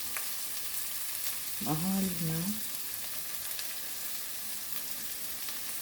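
Celery, salmon and shrimp stir-frying in a pan give a steady, close sizzle that runs the whole time, with a short spoken phrase partway through.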